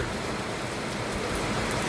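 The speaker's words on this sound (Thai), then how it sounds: "ฝนตก" Steady, dense rain hisses continuously at an even level, with no voices or other distinct sounds.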